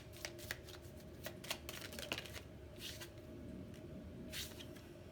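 Tarot cards being shuffled close up, with crisp riffling bursts and flicks that come in irregular clusters, soft and quiet, with no voices.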